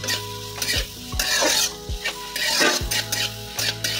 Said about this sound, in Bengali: এই তেলেতেই আমি এখানে অ্যাড করব তেজপাতা, এলাচ, লবঙ্গ, দারচিনি, গোলমরিচ সব কিছু অ্যাড করে দিয়ে এখানে আমি কুচনো পেঁয়াজ এখানে অ্যাড করে দিলাম।